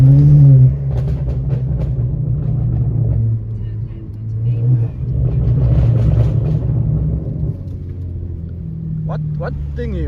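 BMW F82 fitted with a Strada Performance exhaust, heard from inside the cabin as a loud deep rumble with repeated revs swelling and falling, while people talk over it.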